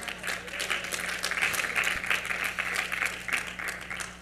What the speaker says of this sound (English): Y'all gave me that slow clap.